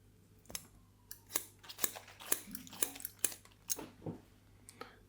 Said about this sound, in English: when there's no sound and then you hear the hair hitting the gown